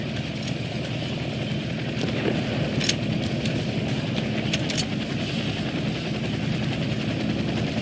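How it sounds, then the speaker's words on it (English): A helicopter arriving for extraction in the video game Warface, its rotor and engine drone steady and loud throughout, with a few sharp clicks or shots near the middle and no speech. "get to the helicopter for extraction."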